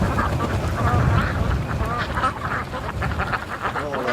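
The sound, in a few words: duck quacking outdoors in wind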